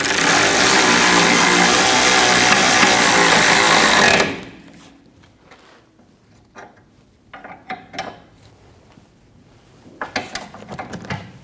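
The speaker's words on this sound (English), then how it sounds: "We're going to get our nut started, and then snug our bolt into it." A power tool, likely an impact gun, rattles loudly for about four seconds while tightening a nut and bolt on a rear shock absorber of a 2012-2022 Volkswagen Passat. Quieter metallic clicks and ratcheting follow, close by.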